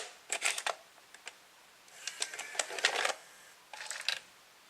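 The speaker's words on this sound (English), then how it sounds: "Let's actually insert a tape." A Realistic 22 Betamax VCR takes in a tape with bursts of close mechanical clicks, whirs and clatter in three separate groups as the loading mechanism moves; no one talks.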